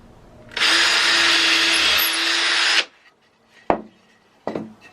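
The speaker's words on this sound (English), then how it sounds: "I'm also going to pre-drill holes for my 3-inch screws" A power drill bores pilot holes through wood for 3-inch screws, whining loudly and steadily for about two seconds, followed by two short sharp knocks.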